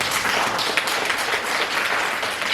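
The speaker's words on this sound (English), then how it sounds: "I need you to give yourselves a round of applause for that." An audience gives a round of applause at a trans-sensitive healthcare services training, dense steady clapping from many hands filling the room at fairly close range, sustained evenly with no speech over it.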